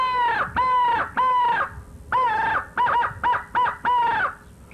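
A hand-blown crow call used for turkey hunting imitates an old crow, giving a series of about ten loud, harsh caws in rhythmic bursts, the last ones shorter and quicker.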